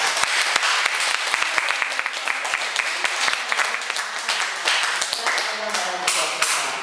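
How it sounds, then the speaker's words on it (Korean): A church congregation at a Sunday service claps steadily and fairly loudly for several seconds, a dense crackle of many hands with a few sharper individual claps and faint voices underneath. "우리의 삶 가운데 역사하신 삼위일체 하나님께 영광의 박수 올려드리겠습니다"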